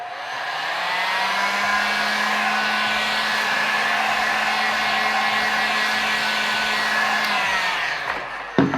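A heat gun blows steadily while warming vinyl wrap on a Yamaha Warrior 1700 motorcycle, a loud, continuous whooshing hum for about eight seconds with faint soft thumps beneath it and no talking.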